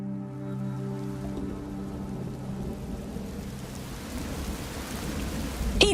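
Heavy rain pours steadily as a sound effect in a Filipino horror audio drama, a dense, constant hiss of falling water under a low sustained tone that fades, with a sharp crackle at the very end.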